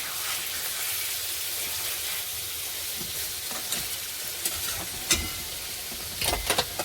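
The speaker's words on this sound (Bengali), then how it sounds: "ভালো করে ভেজে নিচ্ছি।" Food fries in a pan with a constant crackling sizzle, punctuated near the end by a few sharper scraping or stirring knocks, close and fairly loud with no talking.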